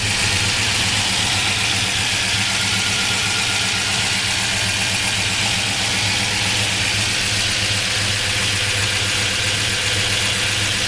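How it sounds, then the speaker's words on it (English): A big-block V8 in a 1971 Dodge Charger idles steadily and loudly, a deep even rumble with a slight lope through new exhaust, running on its own without voices. "Nice running big block."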